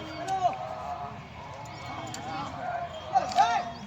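A few horse hoof clops sound on hard ground amid outdoor background noise at a horse fair; faint and irregular rather than a steady gait.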